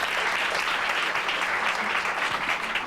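An audience applauds steadily, a dense wash of close clapping filling the whole stretch without pause or voices.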